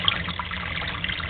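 Water flowing steadily into a basement sump pit as it rises toward the drain tile inlet, a continuous close trickling wash with no talk.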